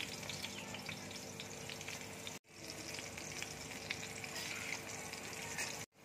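Potato pieces coated in salt and turmeric crackling and sizzling in hot oil, a steady close frying hiss with a couple of brief cuts to silence.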